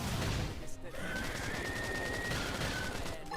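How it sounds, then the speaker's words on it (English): A grenade explodes amid battle in the video game Xenoblade Chronicles X, a loud burst of crashing noise over dense combat effects with a ringing tone, close and heavy. "First grenade."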